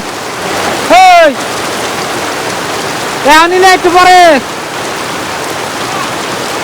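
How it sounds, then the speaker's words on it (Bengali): Heavy rain pours steadily and loudly throughout, a dense continuous wash of water, with a voice speaking briefly twice over it. "বৃষ্টি আপনার ভালোই জোরে নামছে দেখেন"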